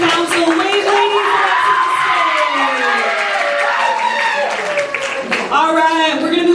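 A school audience cheers, shouts and claps for the freshman student council candidates at a debate, a loud, busy crowd roar with children's voices and whoops running throughout.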